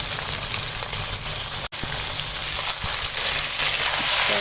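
Spiced chicken sautés in a pan over a wood fire, a continuous crackling sizzle close by with scattered stirring knocks and a brief dropout partway through.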